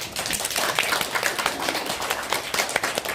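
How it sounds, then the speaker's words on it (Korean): Studio audience clapping for Korean presidential candidate Huh Kyung-young of the National Revolutionary Party at the close of a policy debate, a dense patter of many hands at steady loudness, with a faint voice mixed in. "허경영 후보께 감사하다는 말씀을 드립니다. 박수 한번 드리죠"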